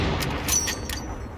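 Enemy gunfire during an ambush in the Call of Duty Modern Warfare campaign: a handful of sharp, fairly distant shots crack out in quick succession over a steady low rumble of battle.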